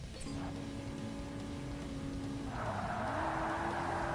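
A coupe's engine and exhaust in the Forza Motorsport racing game, a steady droning hum that rises in pitch and roughness toward the end, heard faintly and continuously.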